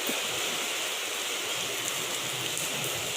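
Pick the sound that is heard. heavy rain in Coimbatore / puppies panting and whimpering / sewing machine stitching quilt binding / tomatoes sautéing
heavy rain in Coimbatore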